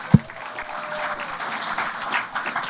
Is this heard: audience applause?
yes